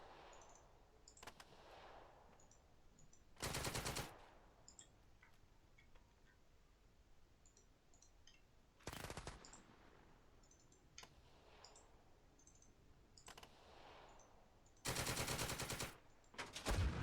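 Gunfire from the video game Second Front, with a faint scatter of ticking shots over quiet, punctuated by three loud sustained bursts of automatic fire.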